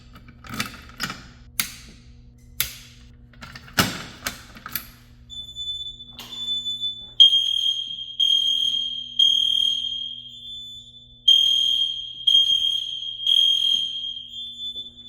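Fire alarm system under a full device test: after several sharp clicks and taps, a loud, steady high-pitched alarm tone sounds in repeated long pulses with brief gaps, close by and alone.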